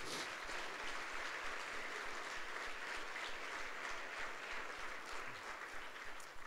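Congregation at a Sunday church service applauding, a continuous broad hiss of many hands clapping together, steady and somewhat distant for several seconds with no talk.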